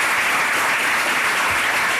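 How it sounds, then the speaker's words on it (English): An audience applauds debaters after a debate on Title IX sexual harassment regulations, dense steady clapping filling the room, loud and continuous throughout. "can I get a round of applause for our wonderful debaters?"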